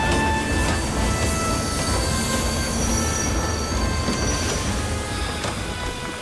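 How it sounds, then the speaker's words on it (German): A train in a German station scene set in Dresden in 1920, from a historical docudrama: loud, steady rumbling of rolling rail wagons with high metallic wheel squeals, heard close and without talking. "Wir fahren mit diesem Zug gleich nach Stuttgart weiter."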